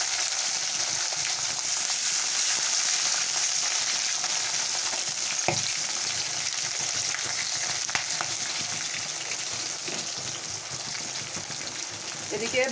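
Black cumin, plenty of garlic and green chillies sizzle in hot oil in a pan for a pumpkin leaf paste, a steady loud crackling fry with an occasional sharp clink or stir partway through.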